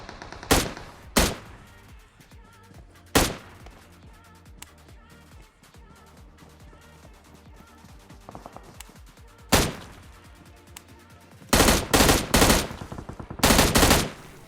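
Squads fight in a video game: scattered loud gunshots crack over game background noise, building to dense rapid bursts of automatic fire toward the end.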